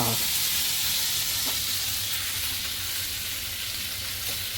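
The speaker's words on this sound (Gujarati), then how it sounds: "રાઈ ફટાફટ ફૂટી ગઈ તો હવે નખાશે એમાં હળદર" Mustard seeds and turmeric sizzling in hot oil for a tempering, a continuous close hiss with a couple of faint pops, a quiet voice briefly underneath.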